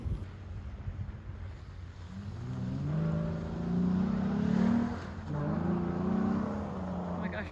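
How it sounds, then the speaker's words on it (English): 2007 Honda Pilot with about 300,000 miles and a cone filter intake, engine revving up in two rising roars with droning harmonics, close and loud over wind noise. "all the noise you hear in my videos is from this intake making a bunch of, you know, awesome, powerful noises"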